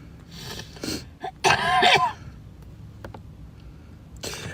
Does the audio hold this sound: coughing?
yes